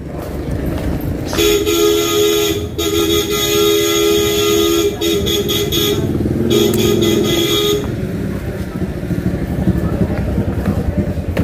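Vehicle horn on a road honking in long sustained blasts, loud and near, broken by short gaps, with traffic rumble and people talking underneath.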